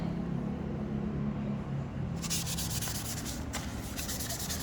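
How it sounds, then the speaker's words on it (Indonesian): Steady abrasive rubbing of sandpaper against a hard plastic part, continuous and close, with a brighter, harsher scratching texture in the second half. "kita akan amplas dulu ini kurang lebih sekitar 2 menit"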